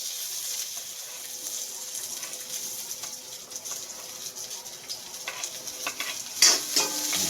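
Garlic, ginger and onion sauté in a pan for a milkfish soup, a steady, close hiss of frying with light stirring clinks growing more frequent toward the end.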